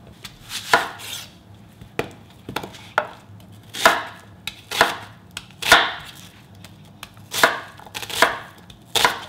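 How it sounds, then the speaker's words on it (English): Onion being chopped with a knife on a board for jjajangbap, a series of sharp close chops in quick bursts and single strokes, alone without talk. "Just chop this up"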